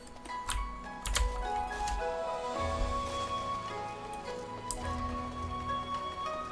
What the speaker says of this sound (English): this place even looks nice when it's raining